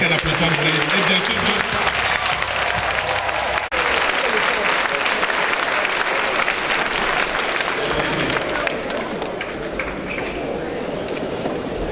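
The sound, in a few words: applause for the commission report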